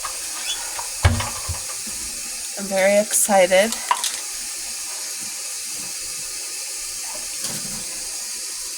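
Warm water runs from a kitchen tap into a bowl while homemade rolls are being started, a steady faucet hiss with a brief louder gush; someone talks briefly and a few clunks sound nearby.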